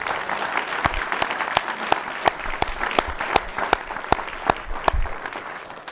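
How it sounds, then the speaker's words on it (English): Applause at a board of education meeting, a steady roomful of clapping with sharp individual claps standing out rhythmically near the microphone, tapering at the end. "I would like to give a round of applause for Bob Hague."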